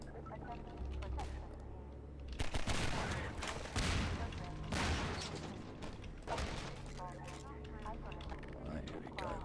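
Gunfire in the video game Half-Life 2 crackles in several clustered bursts of shots with mechanical clatter between them, at a modest, fairly subdued level.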